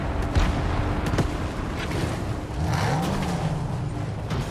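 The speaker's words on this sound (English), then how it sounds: "I'm blowing up a car." A car is blown up in a video game shooting match: sharp gunfire cracks and a heavy blast ring out over engine rumble and passing-vehicle noise, fairly close and dense, with no talking.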